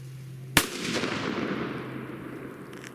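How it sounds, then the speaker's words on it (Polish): A single sharp firecracker bang, about one gram of powder, loud and close, followed by a long crackling, hissing tail as it fades out. "Odpalamy jedną petardę"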